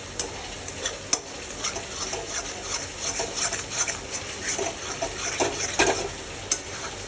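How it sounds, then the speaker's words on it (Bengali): A spoon stirs chicken kofta masala in a pan with a steady scraping, sizzling texture and scattered soft clicks, close and moderately loud, with no talking. "এটাকে অনবরত নাড়াতে থাকবে, নাহলে কি হয় নিচে পুরো একদম লেগে যাবে।"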